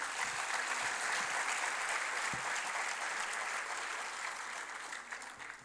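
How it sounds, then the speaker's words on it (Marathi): Audience at a corporate event in Nashik claps loudly and steadily, a dense sustained wash of applause that tapers slightly toward the end. "एक जर जोरदार टाळ्या होऊन द्या सर्वांसाठी"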